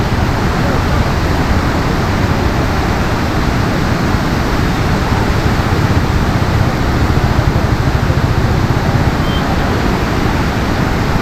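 A loud, unbroken roar of rushing water through the shutters of Mettur Dam, dense and steady throughout, like a torrent pouring through an opening close by.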